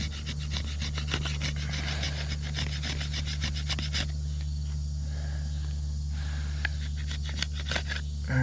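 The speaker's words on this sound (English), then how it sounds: "I'm sanding out, or I'm planing out the ridges" Steady scraping and rasping of a blade planing ridges off a black locust arrow shaft, in rapid repeated strokes, close by with a constant background hum.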